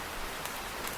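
Steady rain pours in a cartoon scene, a dense, even hiss of falling drops that holds unbroken throughout, with no voices.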